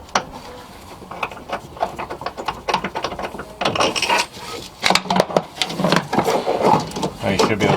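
A ratchet clicks in uneven bursts while a bolt is worked loose from an engine mount on a Volkswagen 2.0L Jetta or Golf, close and fairly loud, mixed with rubbing and clunking metal sounds.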